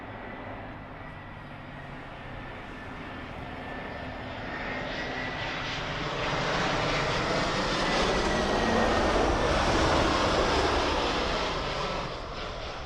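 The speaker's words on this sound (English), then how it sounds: "It's an A318 Air France from Nice." An Air France Airbus A318, a 17-year-old jet arriving from Nice, roars on approach to Heathrow runway 27L, a broad steady engine rumble that swells and peaks near the end before easing slightly, with no voices.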